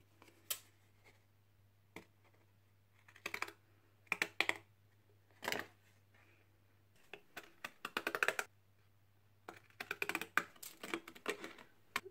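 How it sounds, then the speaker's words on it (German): Pinking shears snip through paper for a handmade birthday card, making a series of sharp, quiet clicks in irregular bursts, with a steady low hum underneath and no voices. "Schneide mir ein kleines Schildchen zurecht."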